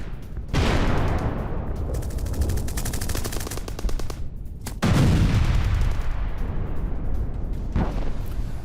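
Machine-gun fire and heavy bursts in combat footage of an attack on Ukrainian positions and a T-90M tank, with two sharp onsets followed by sustained rattling fire and a later blast, loud and dense with no speech.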